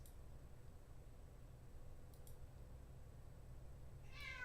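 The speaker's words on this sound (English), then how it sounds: "sorry about the cat, he's just needy" A house cat gives a single short meow near the end, close by and brief, after a long stretch of quiet room hiss with a couple of faint ticks.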